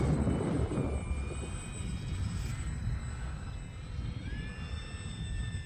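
An E-flite UMX Turbo Timber Evolution RC airplane flies with full flaps, its small electric motor a thin rising and falling whine at a moderate distance over steady wind noise, with no one speaking.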